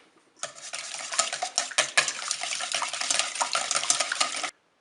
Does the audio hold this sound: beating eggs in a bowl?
yes